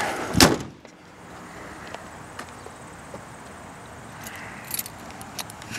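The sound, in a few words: car hood being closed on a 1998 Grand Prix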